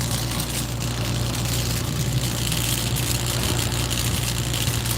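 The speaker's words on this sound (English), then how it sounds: "Fan's going." A home HVAC unit's fan runs with a steady, droning hum and a low rumbling undertone, continuous and unchanging throughout, close by with no talking.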